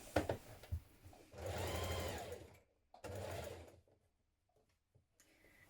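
A sewing machine stitches a long coat made from a Simplicity 8797 pattern, in two close, steady runs of about a second each, with quiet handling noise before and between them.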